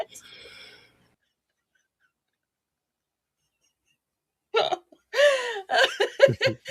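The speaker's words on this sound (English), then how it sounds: "that is the song of the Puerto Rican tree frog" A computer alert tone reproducing the Puerto Rican tree frog's call sounds as a short run of rising chirps, loud and close, after a faint murmur and a long stretch of silence.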